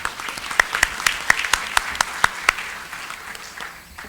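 Audience at a civil procedure law panel applauds a speaker, moderate clapping with several sharp, distinct claps standing out before it thins and fades.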